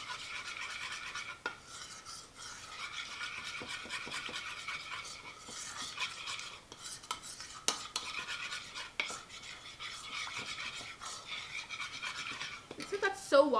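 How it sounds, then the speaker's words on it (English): Potato salad being stirred with vinegar in a bowl, a continuous wet scraping and rubbing of a utensil against the bowl with occasional sharper knocks, fairly quiet and close, with no talk. "And I'm going to stir this. It's going to be really watery."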